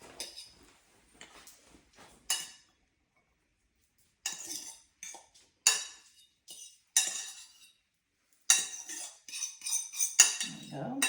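Cooked rice spooned into bowls in a home kitchen for a plant-based meal, heard as scattered light clinks and scrapes of utensil on dishware in short bursts separated by pauses, close and fairly quiet.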